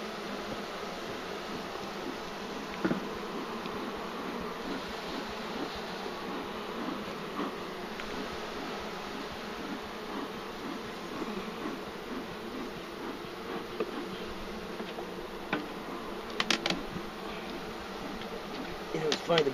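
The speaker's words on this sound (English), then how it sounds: "Alright, get back, bees, please. I don't want to kill none of y'all." Honey bees hum steadily around an open beehive being opened for honeycomb, a dense, even buzz filling the whole stretch with a few faint knocks near the end.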